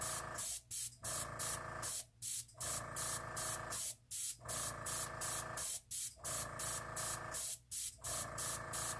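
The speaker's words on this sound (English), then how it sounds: "Not moving the airbrush at all." Airbrush spraying alcohol ink in short, regular spurts of hissing air, each burst separated by brief gaps, steady and close with no talk.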